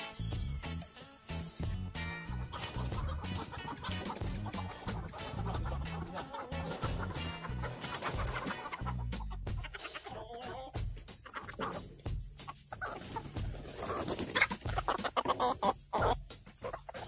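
Lohmann Brown hens and a single Arab rooster clucking steadily in a farm garden as they are let out, a busy, continuous flock chatter close by with no talk.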